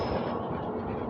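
An Indian Railways WAP-7 electric locomotive hauling the 15509 Patna Rajya Rani Express rumbles past loudly and close, a dense steady roar of wheels and coaches.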